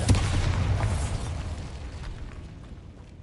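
A Bombarda spell blast in Hogwarts Legacy on PS5 lands as a heavy, close boom with a sharp onset, then rumbles and fades slowly over a few seconds, with no talking over it.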